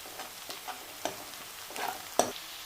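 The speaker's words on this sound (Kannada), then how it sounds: "ಅರಿಶಿನ ಪುಡಿ ಹಾಕಿ ಒಂದ್ಸತಿ ಚೆನ್ನಾಗಿ ಈ ರೀತಿ ಮಿಕ್ಸ್ ಮಾಡ್ಕೊಳ್ಳಿ" Turmeric powder gets stirred into ginger garlic paste frying in oil, with a soft sizzle under several distinct scraping strokes of a spoon against the pan, close up and free of talk.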